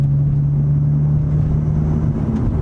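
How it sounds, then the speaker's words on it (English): A steady, loud engine drone with a low rumble and airy intake hiss from a Stage 2 tuned Audi A4, continuous throughout with no voices. "you can definitely hear the intake just sucking in air the whole entire time"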